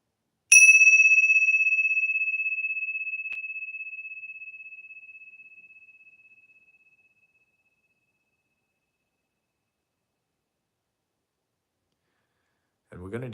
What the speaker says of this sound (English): you allow the sound of the bells to fill your whole attention